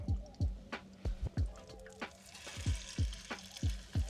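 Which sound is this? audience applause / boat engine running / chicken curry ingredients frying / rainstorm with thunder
chicken curry ingredients frying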